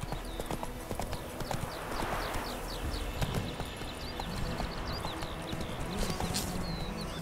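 Horse Roach galloping in The Witcher 3, a steady rapid clip-clop of hooves running through the whole stretch over an ambient game background, with a short whinny near the start.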